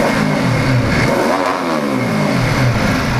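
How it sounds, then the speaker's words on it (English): A 2014 Ducati Hypermotard SP engine revs hard and loud, held high and bouncing against the rev limiter, close to the microphone. "That's off the rev limiter there."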